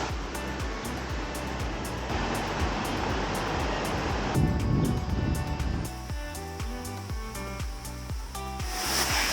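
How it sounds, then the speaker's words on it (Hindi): Cold mountain stream crossing a road near Rishikesh in Uttarakhand, steady rushing water with a broad hiss throughout, overlaid by irregular clicks and knocks close to the microphone. "एक वाटर स्ट्रीम है, जैसे क्रॉस करती हुई जा रही है"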